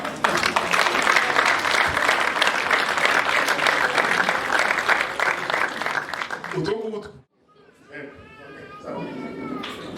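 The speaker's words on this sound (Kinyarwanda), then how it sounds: "mwihe amashyi mwebwe ubwanyu" Wedding guests applaud in a loud, dense burst of clapping that lasts several seconds, then cuts off abruptly and gives way to voices talking.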